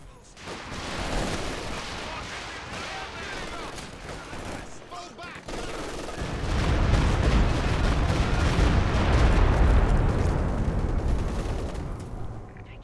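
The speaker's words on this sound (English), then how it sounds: "Looks like another rather off-target walking Stuka barrage" A walking Stuka barrage pounds the ground in Company of Heroes 2, with rolling volleys of heavy blasts. It starts as scattered rumbling, swells into a dense thunderous bombardment midway, and fades slightly at the end while a commentator speaks over it.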